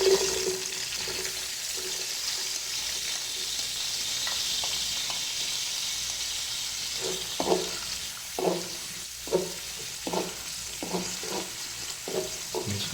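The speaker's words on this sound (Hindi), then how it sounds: "फ्राई कर लें इसको थोड़ी देर।" Chopped onions sizzle steadily in hot cooking oil, a constant close hiss, later broken by a series of sharp scraping stirs of a spoon in the pan.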